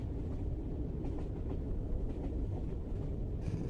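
Steady low rumble of a train carriage interior on a snowy day, a continuous muffled roll with faint rhythmic clatter, close and even throughout.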